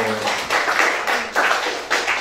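A room of high school students clapping at a school event: dense, steady applause in bursts, with a voice briefly audible at the start.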